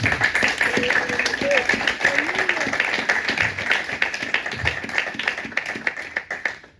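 A Sunday church congregation claps and applauds loudly in a dense, continuous wash of hand claps filling the hall, with voices calling and talking over it.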